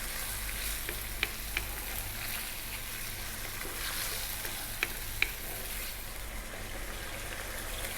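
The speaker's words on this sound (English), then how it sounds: "Give it a stir every now and then." Crushed plum tomatoes sizzle steadily in a pan over medium heat while a spoon stirs and breaks them, with a few light clinks of the spoon against the pan.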